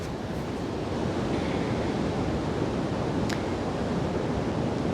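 Continuous ocean surf rolls in a steady broadband wash, with no distinct breaks and no speech, a constant close roar of waves and wind.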